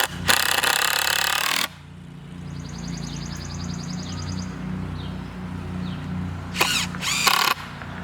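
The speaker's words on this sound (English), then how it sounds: "Anchor this down with some 3-inch screws" Power drill driving 3-inch screws into a wooden mailbox post: a short burst of drilling at the start, a quiet stretch with faint clicking, then two more brief drill bursts near the end, outdoors, with no talking.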